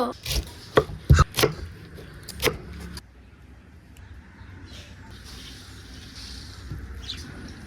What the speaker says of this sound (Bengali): এবার আনারসটি চাকচাক করে সাইজ করে কেটে নেব